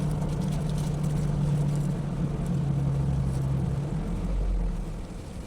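A Jeep with a clear top climbs a hill toward a house, its engine a steady, loud low drone that holds throughout, with a slight drop in level near the end.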